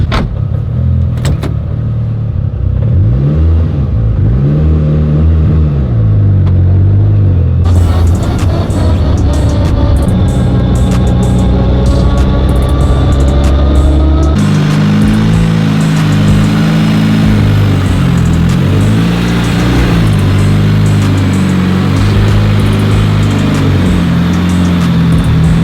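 A Mitsubishi Lancer Evo 8 engine idling steadily with a constant whine and squeal from the serpentine belt layered over the hum, loud and close, shifting in tone partway through.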